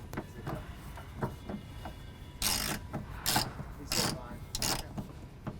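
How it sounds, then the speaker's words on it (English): A ratchet with an 11 mm socket tightens the strap on a replacement fuel tank for a 2007–2018 Mercedes, first as faint clicks, then four louder, distinct ratcheting strokes close by. "Now with the 11 mil socket, we'll be installing the second to the rear strap."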